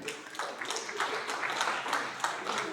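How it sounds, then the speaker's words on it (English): A comedy club audience claps lightly in response to a stand-up comedian, scattered, faint bursts of clapping spread across the moment. "Clap if you are in a relationship."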